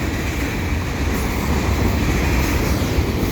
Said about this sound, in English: This is an eastbound CN train.